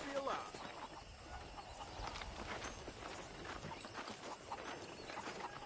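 Horse hooves clip-clopping steadily in the Western game Red Dead Redemption on PS5, a soft continuous walking rhythm beneath background ambience and a faint voice.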